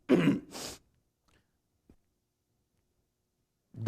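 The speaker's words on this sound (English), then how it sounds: "the throat cough would go away in a few weeks" A man clears his throat with two short, rough bursts close by, then near-silence with a faint tick before another throaty sound starts at the end.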